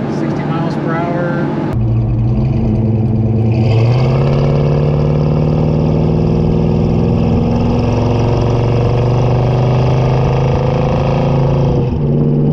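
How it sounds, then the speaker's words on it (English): A 350 V8 in a 1972 Chevrolet El Camino rumbles loudly as it downshifts, with engine pitch sweeping up and holding a strong, steady drone at about 60 mph, with road and wind noise throughout. "So we'll get it to downshift and let that 350 breathe a little."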